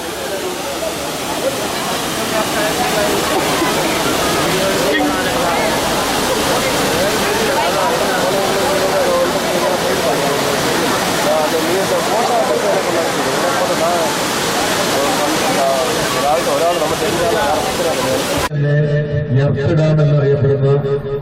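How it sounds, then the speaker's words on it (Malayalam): Periya Canal waterfall in Munnar roars loudly and continuously, a steady broadband rush of falling water that fills the whole scene, with voices faintly present and a shift in sound at the very end. "ഇതാണ് പെരിയ കനാൽ വെള്ളച്ചാട്ടം"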